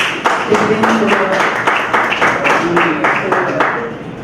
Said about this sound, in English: Special round of applause for her